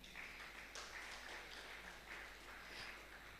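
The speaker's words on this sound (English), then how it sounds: "please clap for him" An audience at a community humanitarian event applauds a guest speaker with steady, faint, distant clapping that lasts throughout.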